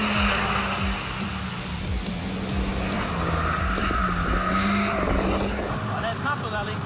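A Mazda MX-5 Miata drives hard on a track, its engine droning loud and close with shifting pitch while the tires squeal and skid, and someone talks over it.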